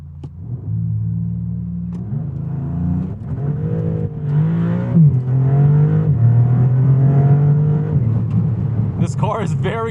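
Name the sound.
sports car launch acceleration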